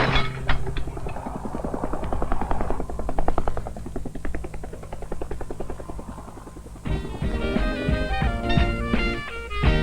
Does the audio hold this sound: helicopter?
yes